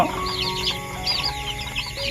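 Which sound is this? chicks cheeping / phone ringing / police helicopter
chicks cheeping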